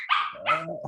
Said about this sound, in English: Dog that is mine and making a lot of noise.